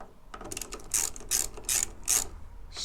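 T20 socket ratchet loosening sat nav mounting screws on a BMW R1200/1250 GS motorcycle, giving four or five quick bursts of close, crisp clicking with brief gaps between strokes.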